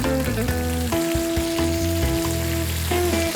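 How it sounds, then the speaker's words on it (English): Prawns fry with olive oil and garlic in a pan, a loud steady sizzle heard close up under tonal background music, no voices. "Then we add the prawns all together."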